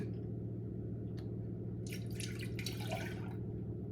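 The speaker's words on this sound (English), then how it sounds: "So now in a small saucepan, we want 2 cups of whole milk." Whole milk poured into a small saucepan, a soft liquid trickle and splash rising midway through over a steady low kitchen hum, with no talking.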